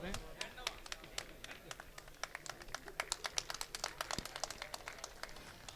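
Audience applause at an award ceremony during a poetry gathering: a thin, scattered patter of hand claps continues throughout, fairly faint and uneven, as if only a few tired people are clapping.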